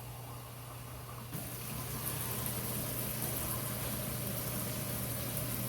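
Tap water runs steadily into a cooking pot in a home kitchen, a continuous rushing stream that grows fuller after a brief start, with a low steady hum beneath and no talking.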